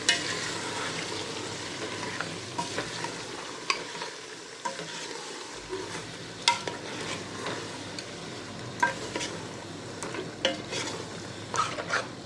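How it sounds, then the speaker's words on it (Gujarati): Mutton being stirred in a hot pan for curry, with a steady sizzle of frying meat and scraping spoon strokes that return in an irregular rhythm, close and clear with no talk. "ચાલો આપણે મટનને મિક્સ કરી લઈએ"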